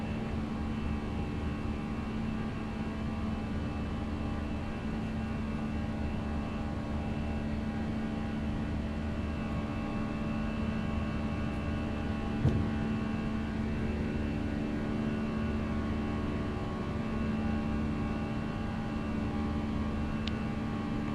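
Steady, droning engine hum of a FlightFactor A320 rolling down the runway for takeoff in X-Plane 11, a constant tonal roar with no speech and barely any change over its length.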